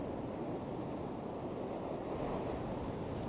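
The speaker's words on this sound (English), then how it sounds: "as the waves start going back" Sea waves draw back down a gloomy shoreline, a steady broadband wash of surf and receding water with wind rumble on the microphone, continuous and fairly loud throughout.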